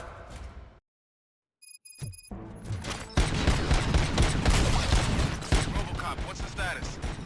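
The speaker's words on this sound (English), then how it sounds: "Gunshots? What's going on?" Gunfire in the RoboCop Rogue City video game erupts as a loud, sustained burst of rapid shots after a brief silent gap and a few electronic tones, continuing densely to the end.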